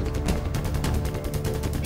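Fireworks at the Golden Temple in Amritsar, lit for a Sikh guru's birth anniversary celebration alongside clay lamps, crackle in a dense, continuous volley of rapid pops and bangs, loud and close, with no pauses.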